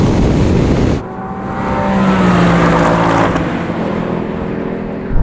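A Porsche Cayman or Ford Mustang Mach 1 engine roars at high revs and pulls hard in a second-gear rolling drag race from 30 mph, with a brief drop around one second before the loud, sustained acceleration continues close by.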